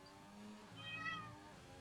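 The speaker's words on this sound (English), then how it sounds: "Cat's just come in and started meowing at me." A house cat meows once indoors, a faint, drawn-out call rising and falling over a low steady background hum.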